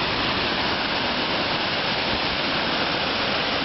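Water gushes steadily from a drain outflow into the Seveso river in Milan, a loud, continuous broadband rush with no pauses and no voices.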